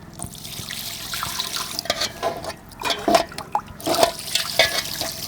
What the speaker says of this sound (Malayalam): അപ്പോൾ വെള്ളം ഒഴിച്ച് മിക്സ് ആക്കട്ടോ